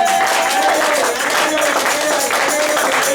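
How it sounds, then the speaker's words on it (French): A church congregation applauds and cheers in a dense, continuous wash of clapping and voices lasting throughout, with a steady held tone running faintly beneath. "je vous invite vivement à honorer cet homme au travers de nos acclamations"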